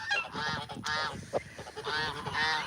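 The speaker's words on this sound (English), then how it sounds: "so these are Chinese geese." Chinese geese honking close by, a steady string of loud, nasal calls repeating every half second or so, with overlapping birds and no talk over them.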